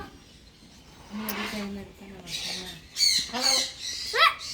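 Pet bird at a farm house giving several short squawks and chirps, close and fairly loud, mixed with people talking nearby.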